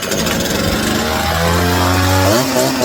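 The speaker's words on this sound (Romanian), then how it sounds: "Și drujba dumneavoastră a pornit." A petrol chainsaw, just pull-started, runs at a loud steady roar with a rising and shifting engine pitch throughout, with no talking over it.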